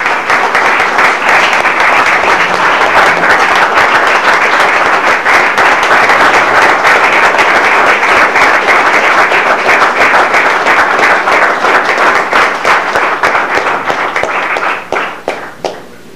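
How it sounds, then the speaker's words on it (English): A crowd at a 2012 Saints Hall of Fame press conference applauds steadily and loudly for about fifteen seconds, the dense clapping holding an even level before thinning out and stopping at the end. "Please give a round of applause and a welcome to Steve Gleason"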